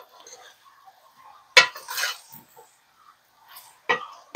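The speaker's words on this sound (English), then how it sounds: "Give that a good stir together." Ground beef for a low-carb cheeseburger soup is stirred in a pot, giving a few sharp utensil clanks and scraping bursts over a quiet kitchen background, with faint rustling between strokes.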